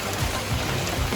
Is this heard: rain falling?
yes